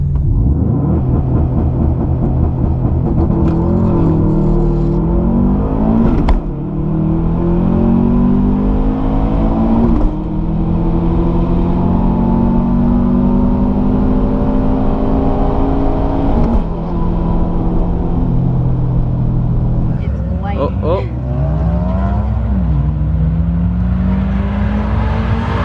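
Subaru WRX and other cars roar through a drag race on a hot day, engines revving and climbing in pitch through repeated gear changes, loud and continuous for the whole stretch.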